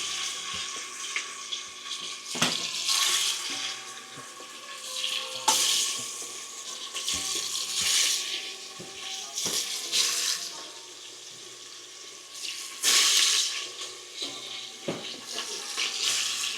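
Oxtail pieces go into a hot pot and sear, producing loud waves of hissing sizzle that surge several times as each piece lands, with some clatter between.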